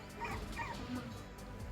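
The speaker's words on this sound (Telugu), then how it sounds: "బాబు వాళ్ళ కుక్క నాన్న." Doberman puppy whimpering and giving short high yips, several brief cries across a steady low background rumble, fairly close.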